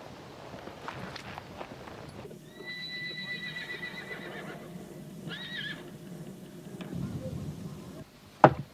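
Horses neigh several times with long whinnies while hooves clip-clop and shuffle nearby at a traditional Montenegrin wedding gathering, fairly faint, with a sharp clatter near the end.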